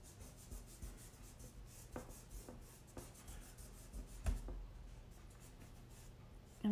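A finger rubs pastel across paper to blend a koala drawing, a faint, close, dry brushing with soft repeated strokes and a few light taps.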